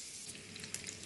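Pancetta frying in a pan for spaghetti carbonara, a close, steady hiss of sizzling fat with small pops and crackles, no talk.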